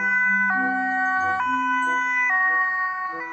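A toy ambulance siren plays a looping electronic two-tone wail, loud and close, stepping between pitches every second or so.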